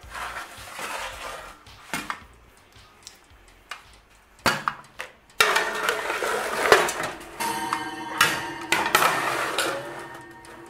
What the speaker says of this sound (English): the time has come to stick them in the oven.